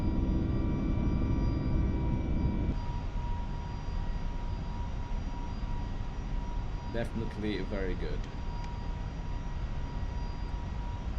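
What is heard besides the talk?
Airbus A321neo jet engines in Microsoft Flight Simulator video game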